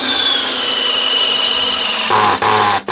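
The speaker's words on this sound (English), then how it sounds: "Here comes the 12 volt DeWalt." A DeWalt 12 volt power drill running loud and close with a high steady whine, then the pitch drops and the motor labors under load, briefly cutting out twice near the end.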